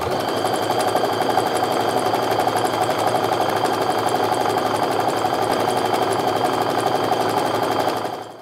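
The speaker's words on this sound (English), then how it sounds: "now I'm just going to sew my quarter inch stitch all the way down here" A sewing machine running a quarter-inch seam along strips of quilt fabric, a fast, steady mechanical whir that continues unbroken and close before stopping at the end; no voices.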